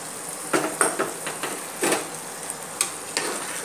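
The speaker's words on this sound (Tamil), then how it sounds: "போட்டுட்டு ஒரு கிளறு கிளறிட்டு இனி குக்கர் மூடிய மூடிடலாம்" Ghee-fried cashews and raisins are stirred into coconut milk rice in a pressure cooker, giving several close scraping, clinking strokes of a ladle against the metal pot over a soft background hiss, with no speech.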